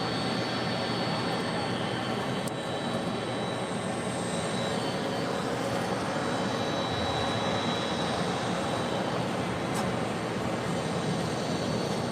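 An airliner landing on runway 25 left at LAX, a distant, steady broadband jet roar with a faint whine, continuous and moderately quiet with no voices.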